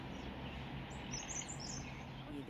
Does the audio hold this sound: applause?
no